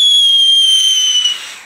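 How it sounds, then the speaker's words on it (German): Mini firework rockets whistle in a single loud, steady high-pitched tone that holds and slowly fades over under two seconds, heard alone without talk. "Ich glaube tatsächlich, es sind nur diese Mini-Raketen, die pfeifen."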